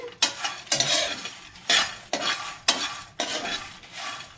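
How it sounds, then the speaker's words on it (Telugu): Stuffed eggplants for an Andhra-style curry frying in a pan, with repeated bursts of stirring and sizzling as a utensil scrapes through the oil, about seven strokes at an uneven rhythm, close and fairly loud. "ఇవైతే ఫ్రై అయిపోవచ్చాయి."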